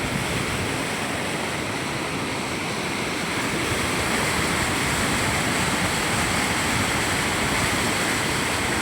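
Water roars continuously through temple gates at Panchalingeswar, a dense, loud rushing flow with no pauses.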